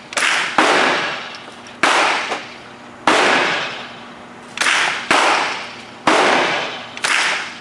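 Gunshots at a shooting range crack out loudly and close by, about seven sharp reports spaced a second or so apart, each ringing off with a long decaying tail.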